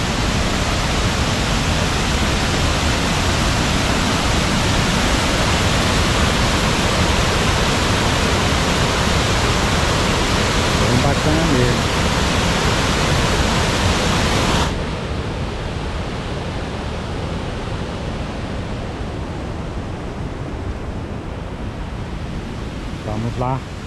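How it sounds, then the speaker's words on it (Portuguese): Apuí waterfall in Amazonas, Brazil, roaring as a dense, steady broadband rush that fills the first fourteen seconds, then drops to a somewhat softer, more distant wash of falling water for the remainder. "Mostra lá também, ó, a queda d'água."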